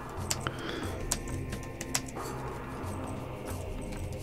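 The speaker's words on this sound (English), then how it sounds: "Typing." Computer keyboard typing in short bursts of light, quick clicks with a few louder key strikes, close by over a steady low hum, with no talking.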